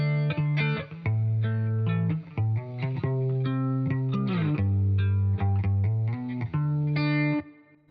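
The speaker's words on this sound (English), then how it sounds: "I am adding this first guitar layer" Clean electric guitar layer through an Amplitube 5 EJ Clean 1 preset, playing a picked chordal folk pattern with shimmering chorus-like effects, steady and close, with no talking.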